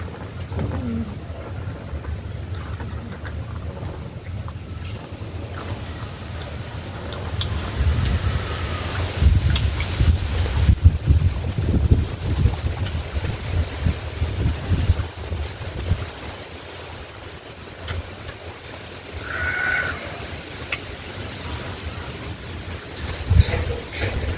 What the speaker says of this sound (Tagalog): Lakas talaga ang hangin